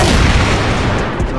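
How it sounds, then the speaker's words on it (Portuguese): A grenade blast in the shooter game CrossFire, a loud, dense booming burst filling the whole short moment with rumbling low-end energy and no pause. "Granada, eu escolho você!"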